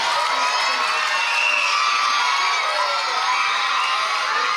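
The audience at a school annual function cheers loudly, with a dense, sustained roar of shouting and whooping voices, many of them children, that keeps going without a break.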